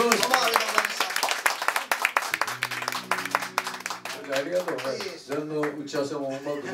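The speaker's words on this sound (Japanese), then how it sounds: "大きな拍手もう一度お願いします" Audience applause at a live concert sweeps through the hall in dense rapid claps, with a voice and sustained tones taking over as the clapping carries on underneath.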